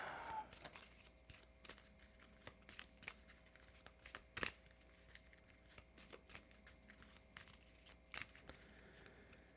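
Playing cards from a Marvel Champions encounter deck are shuffled at close range, a quiet run of soft, crisp riffles and flicks repeating irregularly with no talk.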